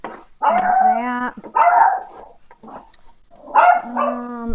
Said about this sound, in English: I'm not sure if you can hear Lola barking